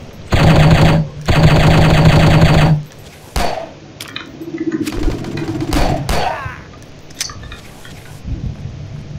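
Gunfire in the shooting video game Striker, with a pistol in use: two long, loud bursts of rapid automatic fire open the stretch, followed by scattered single shots and clattering impacts over quieter game ambience.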